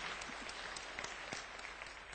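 A conference audience at linux.conf.au 2010 applauds the paper committee, a faint, distant wash of many hands clapping steadily in a large hall.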